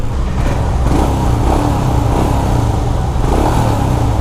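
A Royal Enfield Himalayan BS6 400 cc adventure motorcycle pulls hard at highway speed, its loud steady engine drone blended with heavy rushing wind.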